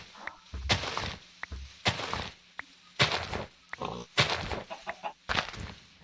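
Minecraft chickens cluck as one lays an egg, several sharp, separate clucks and pops in an uneven rhythm, mixed with other game animal noises like pig grunts, fairly close and clear.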